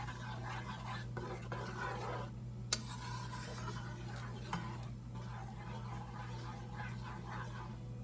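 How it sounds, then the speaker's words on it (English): Food being stirred in a pot on the stove so it warms through, a steady scraping, rubbing rhythm with faint sizzling under a constant low kitchen hum, close by and with no talking. "I'm gonna give it a stir and let it get warm"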